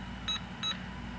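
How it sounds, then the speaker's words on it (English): Two short, bright electronic beeps from a Honeywell Solid State System 7000 security alarm panel going into alarm, evenly spaced about a third of a second apart, over a steady low background hum. "All it does is send the system into alarm"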